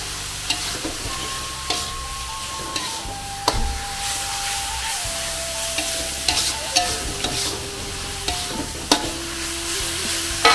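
Bay leaves are stirred in a pan of sizzling oil: a steady, close frying hiss runs throughout, with scraping stir strokes and occasional clinks of a utensil against the pan, under a faint background tone.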